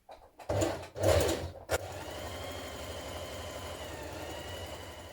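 After a couple of short, loud bursts, a sewing machine hums along steadily and fairly quietly, stitching a 1 cm seam on a cocoon-style dress.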